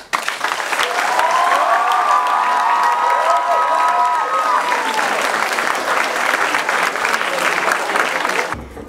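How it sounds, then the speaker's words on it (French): High-school audience at a slam poetry workshop in Paris bursts into loud, sustained applause with some cheering and whoops, a long wave of clapping that cuts off abruptly at the end. "un tonnerre d'applaudissements pour eux"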